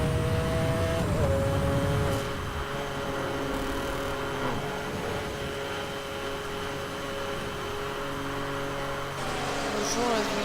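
A simulated car in Need for Speed Hot Pursuit revs and whines while drifting, with engine tones shifting up and down and a louder burst at the start, over steady game background.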